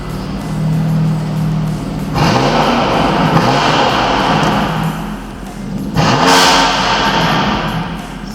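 A BMW M2 Competition with Sport Plus exhaust mode revs hard, its engine climbing in loud repeated surges close by, each rev rising and falling with crackling exhaust, no talking.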